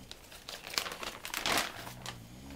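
A heavy-duty plastic bag crinkles and rustles in bursts, with a louder crumpling swell midway, handled close by while rainwater samples are packed in a quiet indoor setting.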